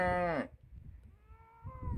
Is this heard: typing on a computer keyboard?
no